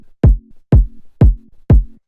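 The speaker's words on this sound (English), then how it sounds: "kind of punchy kick like you can hear" Fat, mid-rangey, punchy kick drum in a funky disco house beat, four loud evenly spaced thumps in a steady four-on-the-floor pulse, with a short tonal tail after each hit and nothing else playing.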